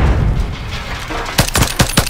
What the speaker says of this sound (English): Oh, that shot right there.